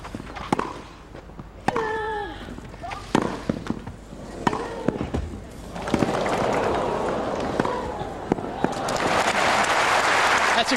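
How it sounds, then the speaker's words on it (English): A tennis crowd at a grass-court women's tournament reacts to a rally, with scattered sharp ball strikes and shouts giving way to rising oohs and then swelling applause. "you can hear the crowd oohing and eyeing with the play here"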